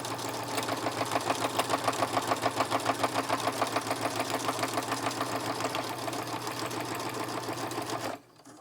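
Sewing machine stitching through a 5x7 handmade card panel, a steady rapid mechanical whir with regular pulsing beats, close and loud, running continuously before cutting off abruptly near the end.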